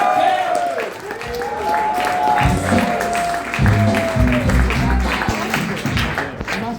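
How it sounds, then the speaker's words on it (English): Applause from a comedy club audience at a stand-up heat, rising under sustained voices and music-like tones, with clapping thickening midway and continuing through to the end. "Another big round of applause for the final"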